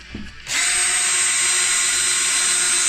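A Makita cordless drill whirs up after a short pause and runs at a steady high pitch, loud and close, without letting up.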